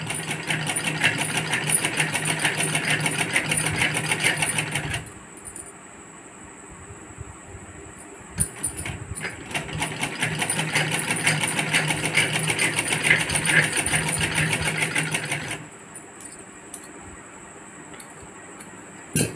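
Sewing machine stitching a strip onto a handkerchief pouch lining, running in two steady buzzing bursts separated by a quieter pause, then stopping near the end.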